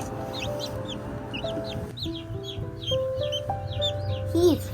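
Several newly hatched chicks inside an egg incubator give a rapid run of high, repeated peeping chirps up close, over a low background hum, with a brief voice nearby.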